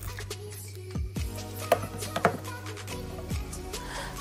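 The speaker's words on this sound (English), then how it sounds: "So cut the chives and spring onions and mix everything together." A knife chops chives and spring onions on a board in a few sharp, separate strikes, sparse and fairly quiet, against a low steady background hum.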